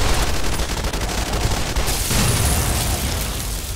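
Dense, loud battle noise in Fallout: New Vegas, Lonesome Road DLC, with plasma grenade blasts and gunfire, a heavy continuous barrage and a deeper boom near the middle, no talking.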